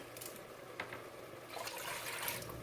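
Water pours steadily into a pot, two cups for cooking beans, a soft continuous splashing and trickling that grows slightly fuller toward the end.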